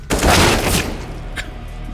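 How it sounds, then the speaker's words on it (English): An incendiary grenade bursts in a video game with a sharp, loud boom and crackling roar that fades over a second, followed by a faint second pop. "Incendiary."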